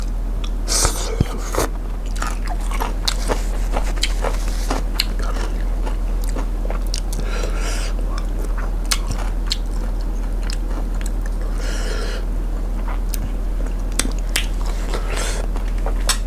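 Close, loud chewing and crunchy biting while eating Thai yam pu salad of salted pickled crab, with many sharp crackling bites and wet mastication over a steady low hum and no talking.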